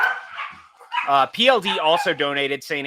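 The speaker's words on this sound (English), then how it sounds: "And I apologize for the barking." Corgis bark in short, sharp bursts, loud and close, mixed in with a person talking.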